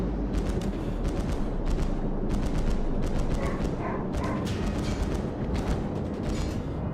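Anti-aircraft guns on the battleship New Mexico in World of Warships fire rapid, dense bursts of cracking shots over a loud rumbling battle din, with continuous gunfire rattling throughout.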